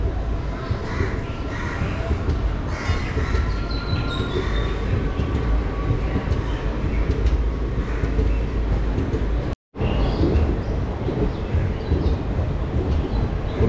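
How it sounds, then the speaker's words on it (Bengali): A passenger train pulls out of Kolkata station with a loud, continuous rumble of wheels on rails, faint squealing tones and a brief dropout near the end, close and without talk. "ট্রেন বেরিয়ে যাচ্ছে। এই হচ্ছে কলকাতা স্টেশনের একদম শেষ।"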